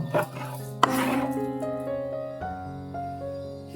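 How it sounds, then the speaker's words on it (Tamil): A spoon scrapes and stirs fish curry inside a metal pot with rasping, rubbing strokes, and faint clinks ring out against the pot's sides. "நல்லா கிண்டி விட்டுருவோம்"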